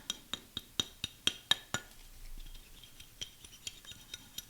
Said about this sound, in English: tap the back.